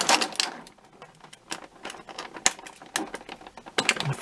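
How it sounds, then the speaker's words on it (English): Scissors snip through the small plastic strings holding a NECA TMNT Leonardo Hunchback action figure in its packaging, giving sharp, close clicks and cuts in an irregular series with rustling between them. "watch me cut through the little strings and things"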